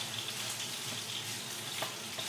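Shallots stir-fried in a pan with chili paste give a steady, close sizzle and hiss for a couple of seconds. Faint scrapes come through, and no one speaks.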